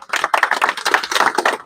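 Brief burst of applause from an audience at a rural village meeting, a quick dense patter of many hands clapping together, fairly loud and close, no talking over it.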